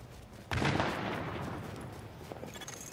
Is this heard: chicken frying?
no